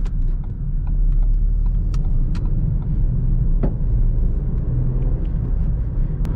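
A Ford Fiesta pulls away from a standstill with a low, steady engine rumble and road noise from inside the cabin, plus a few faint clicks and taps over the drone.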